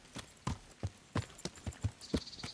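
Horse hooves clip-clop at a slow, steady walk in the medieval video game Kingdom Come: Deliverance, about a dozen distinct hoofbeats close and clear over a quiet background.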